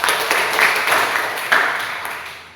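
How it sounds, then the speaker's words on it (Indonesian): Classroom applause from students in a Christian religion lesson, a dense patter of many hands clapping loudly at first and gradually thinning and fading toward the end. "Tepuk tangan untuk semua."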